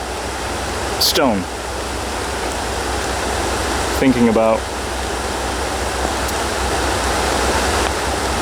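Flowing water of a creek, a loud steady broadband rush that continues throughout, with someone speaking briefly over it.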